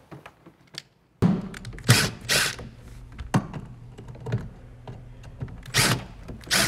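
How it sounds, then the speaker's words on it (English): A screwdriver backs screws out of the armrest brackets on a home theater seat, giving several close, sharp clicks and creaks in an irregular rhythm with short metallic knocks between them, and no talking. "I'm going to grab a screwdriver, and from the inside, I'm going to locate the two screws."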